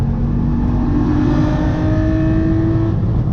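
A car engine fitted with an Injen cold air intake revs hard to high RPM, a loud, steady, rising scream that holds close and alone for the whole stretch with no talk over it.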